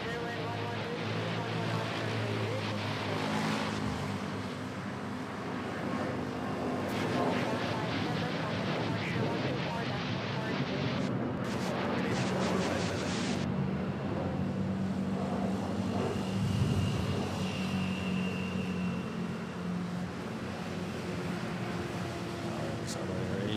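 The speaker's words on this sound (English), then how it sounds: "We catch a takeoff off the Cebu Pacific to Iloilo." A Cebu Pacific airliner takes off at Manila Airport, with a sustained engine roar building and rumbling from some distance over steady background noise.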